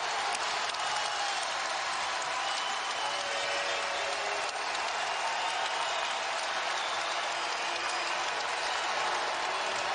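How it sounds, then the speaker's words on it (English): A college basketball arena crowd at a Butler versus UConn game roars and cheers in a dense, sustained wall of noise that stays loud and even throughout. "Here comes the crowd."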